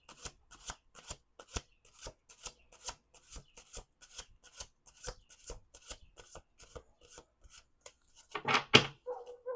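A deck of tarot cards being shuffled over and over, crisp riffling bursts in a steady rhythm, close by, ending in a louder flurry of cascading cards.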